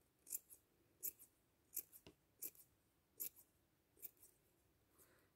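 Scissors snip a paper Easter sheep craft in a series of short, crisp cuts about every half to one second, close and clear in a quiet room.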